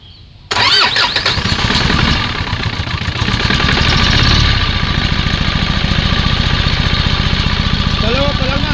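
Overhauled Isuzu 4HF1 diesel engine cranking and catching, then running with a loud, rapid, steady clatter close by, with a voice briefly heard over it.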